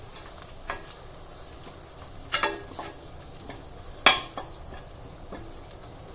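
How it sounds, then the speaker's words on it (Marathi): Crushed ginger sautéing in oil for a spicy dry mutton dish, heard as a soft frying hiss broken by a few sharp spoon-on-pan clinks and scrapes, close by with no talking. "ते सुद्धा आपण या तेलामध्ये चांगलं परतून घेऊया।"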